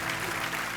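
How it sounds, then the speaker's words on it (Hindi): Audience applause in a TV comedy show studio, a steady, dense wash of clapping for under a second with no voices on top. "यहाँ पे तो यूलिया के लिए तालियां बजाई जाए"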